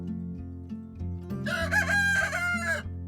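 A rooster crows once, a long drawn-out call rising over steady low background music.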